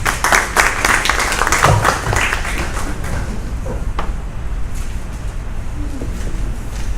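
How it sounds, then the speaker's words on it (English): An audience at a Caribbean health summit for healthcare providers claps warmly for a doctor, a dense, steady wash of handclaps at close to moderate distance that stays fairly even across the whole stretch. "So let's give her a warm round of applause."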